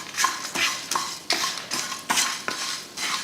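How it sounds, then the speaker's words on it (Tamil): A spoon scrapes and stirs grated coconut and spices dry-roasting in a pan, about eight rhythmic strokes with clinks against the metal, close and fairly quiet, with no voices. "தேங்காய் போட்டு லைட்டாக வதக்கிட்டு இப்போ அடுப்பை ஆஃப் பண்ணிக்கலாம்"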